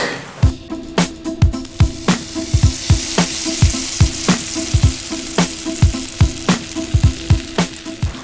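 Snakehead fish fries in hot oil with a loud, steady sizzle. Sharp pops and crackles spit through it at an uneven, rapid pace, all close to the listener, and nobody talks.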